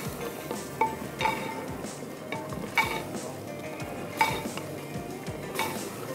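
Yogurt and ground masala are stirred into mutton in a pot, making soft repeated scrapes and clinks of a spoon against the metal at an irregular pace, with a faint sizzle underneath.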